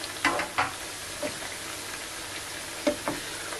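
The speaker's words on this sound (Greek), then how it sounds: "Αφαίνουμε να τηγανιστούν καλά." Zucchini fries in hot oil with a continuous soft sizzle, broken by several sharper crackling pops and stirring clinks, close and alone without talk.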